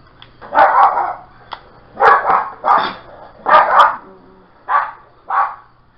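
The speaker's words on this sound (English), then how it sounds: "Sorry about my dogs barking." Dogs bark indoors in short bursts, roughly seven loud barks with some doubled, spaced irregularly over several seconds against a quiet background.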